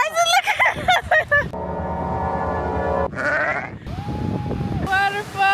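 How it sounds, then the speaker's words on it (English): A sheep bleats nearby in the Lake District countryside in a few wavering calls, alongside excited voices and a steady hum of background noise. "Whoa! What's that? Sheep. A sheep!"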